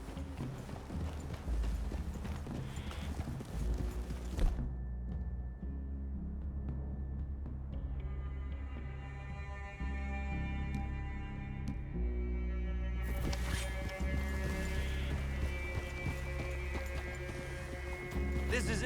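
Hooves clop steadily on the ground over a low ambient hum, a continuous walking rhythm with no voices, from horses in the video game Red Dead Redemption 2.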